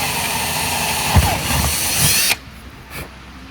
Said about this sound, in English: So I'll drill one hole